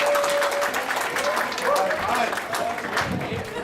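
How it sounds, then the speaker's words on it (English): Comedy club crowd applauding a comedian's introduction, moderately loud clapping that carries on for a few seconds with some crowd noise mixed in. "So let's give a round of applause for Mike Smith."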